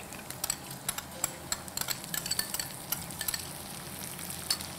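Cream is stirred into cooked spinach for palak handi in a pot over low heat, with a soft sizzle under steady scraping and light spoon clinks against the pot.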